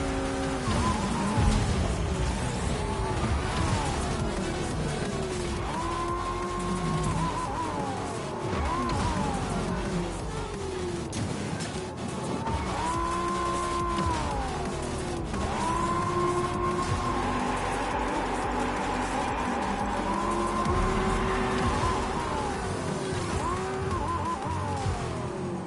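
Fortnite cars drift and skid in a race, engines revving and whining through rising and falling gear sweeps with tire screeches and occasional crashes, loud and continuous under game music.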